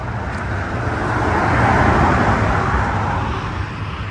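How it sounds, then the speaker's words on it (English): Road traffic outside a plant nursery, a continuous broadband rumble of passing vehicles that swells and fades slightly, fairly loud and close with no speech. "A lot of traffic noise, but I hope that you can hear me."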